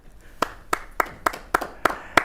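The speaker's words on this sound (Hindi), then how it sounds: "तालियों से स्वागत" A handful of poets and guests at a Ram Mandir flag-hoisting recital give sparse, evenly spaced claps, about seven sharp hits at a steady beat in a quiet hall.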